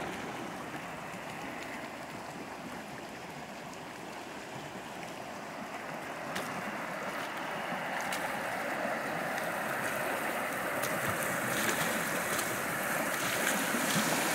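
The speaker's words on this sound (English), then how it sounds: "right here with this waterfall, so they made an elevation change here." Creek water pours steadily over a small waterfall about three feet high at a stream improvement site, a continuous close rushing wash with no break, alone and growing slightly louder toward the end.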